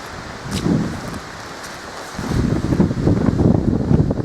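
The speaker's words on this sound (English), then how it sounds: "That's the wind." Wind gusting across open ground in the Black Mountains of South Wales, a rough buffeting rush against the microphone that eases briefly, then returns stronger and more turbulent, close and fairly loud with no talking.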